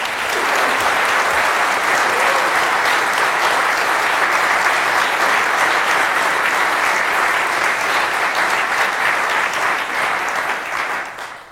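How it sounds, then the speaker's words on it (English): An audience gives a long, loud round of applause for two guest speakers, thick continuous clapping that sustains for over ten seconds before fading at the close. "So will you give a great round of applause to Alister and Brett?"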